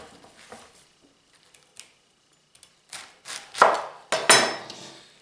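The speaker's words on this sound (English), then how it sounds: "cut off the root end." A knife chopping the root end off a bunch of celery: a few faint taps, then three or four louder crunching cuts near the end, close by, with no speech.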